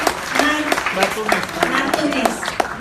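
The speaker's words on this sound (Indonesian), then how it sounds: "Tepuk tangan buat panitia yang sudah mendatangkan" Crowd applause with many hands clapping in a steady patter, mixed with voices talking over it, at an event commemorating the Aceh tsunami.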